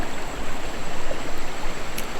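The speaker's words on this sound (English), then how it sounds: "this is a really beautiful section of river" A river flows steadily over a beautiful wild stretch, its continuous rushing, bubbling wash filling the scene with no voices.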